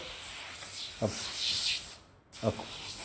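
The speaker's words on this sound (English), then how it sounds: "Spray an even layer" Hissing pump spray of foaming car interior cleaner bursts onto fabric sofa upholstery, several sustained sprays separated by short breaks and soft clicks of the trigger, close and fairly loud.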